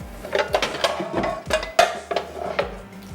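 A frying pan being picked up and set down on a stovetop in a kitchen, several clanking metal knocks and scrapes spaced irregularly, close and fairly loud.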